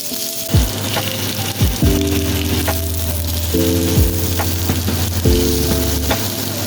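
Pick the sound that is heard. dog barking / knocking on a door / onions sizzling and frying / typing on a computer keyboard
onions sizzling and frying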